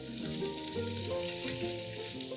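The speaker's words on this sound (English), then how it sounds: "Be a little careful when you place your meat inside the pot with the hot oil. You don't want it to splatter." Beef stew meat fries in hot oil in a deep pot, giving a steady, close sizzle and crackle throughout, with no talking.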